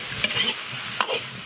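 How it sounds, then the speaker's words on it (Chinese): Spices and aromatics with lean pork stir-fried in a wok for Shaanbei knife-cut noodle sauce: scattered bright scraping and stirring strokes over a low sizzle, close and moderately loud, with no talk. "把料头炒香以后加入开水"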